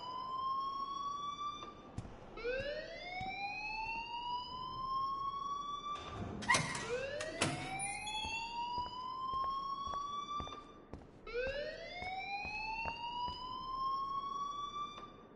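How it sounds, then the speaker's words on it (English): In the Life is Strange video game, a wailing alarm siren sweeps upward over and over in a steady cycle, loud and continuous. A burst of clattering noise cuts in partway through. "please turn off that alarm since that's your job"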